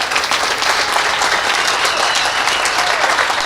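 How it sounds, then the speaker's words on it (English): Dense, loud audience applause at a hotel event, a continuous close wash of many hands clapping with no speech over it. "Can we give Suzanne a round of applause?"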